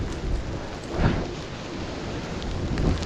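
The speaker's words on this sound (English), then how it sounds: "because it's raining now." Rain falls steadily outdoors near the fast-flowing Gayle waterfall, making a dense, even wash of noise with a couple of gentle swells and no voices.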